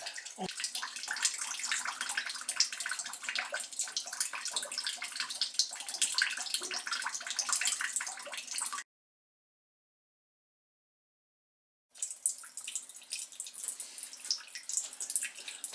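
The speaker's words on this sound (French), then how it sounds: "On a quelques petites éclaboussures, mais c'est très peu." Water from a pump-driven indoor bamboo fountain splashes and trickles in a steady close stream, stopping abruptly for a few seconds of silence before resuming.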